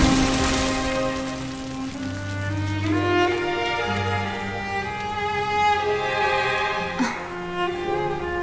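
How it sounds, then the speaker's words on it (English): Steady rain in the video game Dragon Quest XI patters softly in the background beneath a sustained musical score, even and continuous throughout. "Looks like the rain's dying down."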